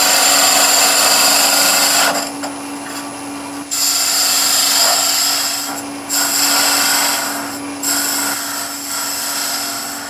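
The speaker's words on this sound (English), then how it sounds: "if I grab the spindle gouge" A spindle gouge cuts a fine curve into wood spinning on a lathe, giving a loud, steady, high-pitched shearing whine over a constant motor hum. The cutting briefly drops away and resumes several times.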